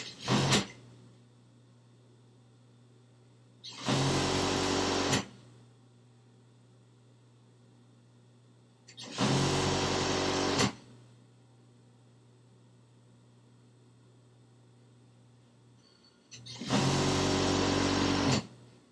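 A sewing machine runs in three loud stitching bursts of about a second or two each while sewing the outseams of trousers, separated by pauses filled with a low steady motor hum.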